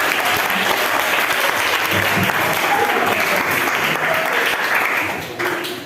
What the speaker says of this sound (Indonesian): Tepuk tangan dulu buat Mas Wahlis